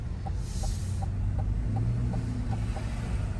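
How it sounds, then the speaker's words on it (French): A car's turn signal indicator ticks in an even, steady rhythm, about eight clicks over a few seconds, heard from inside the cabin over a low engine rumble. "J'aime bien le son du clignotant, c'est important."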